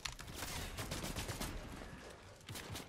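Fortnite gunfire rattles in quick, faint bursts of repeated shots, a rapid volley that fades briefly near the end before a final short burst.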